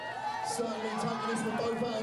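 A sellout stadium crowd at Scotland's Strongest Man murmurs and cheers in a continuous rumble, with scattered shouts rising over it while a commentator talks.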